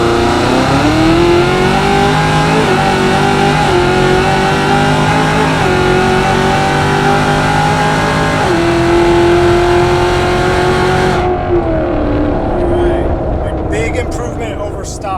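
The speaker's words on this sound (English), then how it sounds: "So I'm gonna stab the gas and we're gonna get going here and see how this thing performs." A Hennessey-built supercharged Camaro ZL1 1LE accelerates hard in sport mode, its engine loud and close as it climbs through repeated rising revs and gear shifts before easing off near the end.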